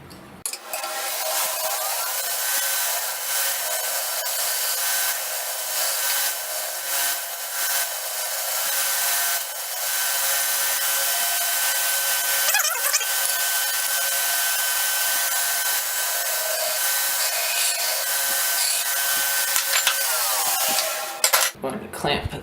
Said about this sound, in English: I'll know the grind is good when it's nice and thin and both sides are even.